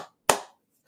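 Hand claps in a quiet room: one sharp, close clap with a short decay, then the faint onset of a second clap at the very end.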